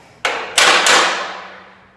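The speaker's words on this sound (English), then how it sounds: "You kind of got to hammer them in because they're just a really tight fit." Tight-fitting parts are hammered into place in a garage, three sharp, loud metallic strikes in quick succession, each ringing out and fading slowly.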